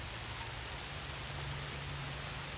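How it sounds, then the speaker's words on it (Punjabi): Light rain falls steadily on a farm as a monsoon shower sets in, producing a faint, even hiss with no distinct drops and no voices. "ਬਸ ਐ ਕਣੀਆਂ ਜੀਆਂ ਪਾਉਣ ਲੱਗੇ ਆ ਯਾਰ ਮੌਸਮ ਆ ਗਿਆ"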